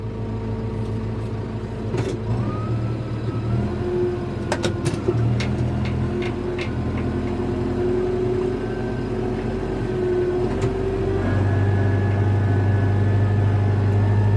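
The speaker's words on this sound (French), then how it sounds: "j'entends qu'il passe avec ce tracteur" A steady, low engine rumble of a tractor drones on, growing slightly louder toward the end as it passes, with a few faint bird calls above.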